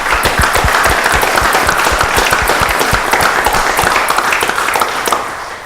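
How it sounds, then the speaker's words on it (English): At a board of trustees meeting, an audience applauds police officers with a full, loud burst of clapping, individual claps audible within the dense wash, sustained and then easing off toward the end. "I would like to give them a round of applause for being police officers"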